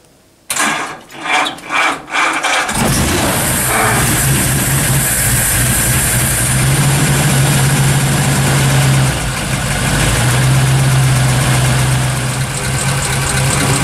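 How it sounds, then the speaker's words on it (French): A Vendôme engine idles at low rpm after a few rattling cranks, settling into a loud, steady, close mechanical churn with a faint whine, no voices. "le régime moteur étant très bas, la dynamo ne charge pas"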